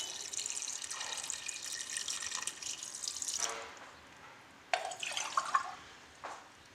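Water poured into a pot of bone-in chicken with salt and black peppercorns, a soft running trickle and light splashing, followed by a few sharper drips and clinks near the end, close and fairly quiet.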